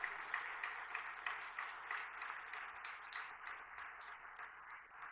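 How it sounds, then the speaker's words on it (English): An audience at a startup hub inauguration gives a steady round of applause, many hands clapping in a continuous rattling wash that stays fairly distant and gradually eases off toward the end. "Can we have a huge round of applause?"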